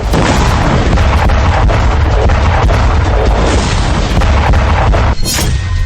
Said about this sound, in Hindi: जिसके बाद जबरदस्त धमाका देखा गया